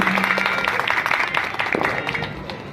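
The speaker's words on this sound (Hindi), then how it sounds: "एक बार जोरदार ताली बजा दीजिए इनके लिए।" Audience applause at an Arya Samaj centenary celebration in Madhubani, a dense steady wash of clapping hands from a crowd, fairly loud and continuous, with a brief low tone near the start.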